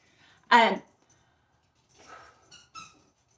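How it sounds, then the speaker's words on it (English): A dog plays with a squeaky toy indoors, giving one loud, sharp squeal followed after a pause by a few softer, shorter squeaks. "My dog just found his squeaker. It might get loud."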